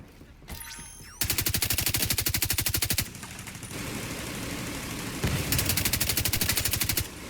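An M60 light machine gun fires in The Division 2, loud and close, in two long rapid bursts with a short break between them and a brief mechanical clatter just before the first burst.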